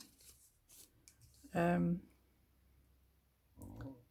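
Scissors snip out a paper tag for a junk journal, one short crisp cut near the middle and a softer one at the end, close and quiet, with a voice talking between.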